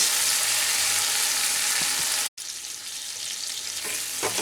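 Spices stirred into pointed gourd curry in a hot pan, a continuous close sizzle with a brief break and faint scraping of the spoon, no talk.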